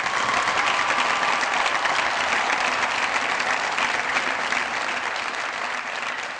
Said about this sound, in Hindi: आप सब लोगों की बहुत सारी तालियों में चौधरी शुजात हुसैन साहब।